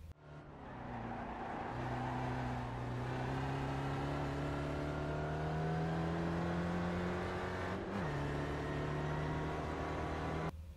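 Spec Racer Ford engine at Sears Point in the iRacing sim, a loud continuous drone holding near full throttle, rising slowly in pitch before a brief dip and recovery near the end, with no voices.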